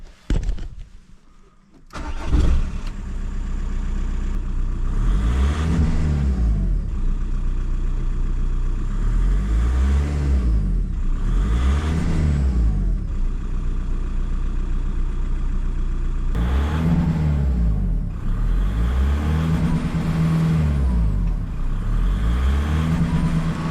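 A VW Golf TDI PD130 diesel fitted with a decat straight-through exhaust starts up, then idles loudly and close, with three rising and falling rev sweeps in steady succession. No one speaks.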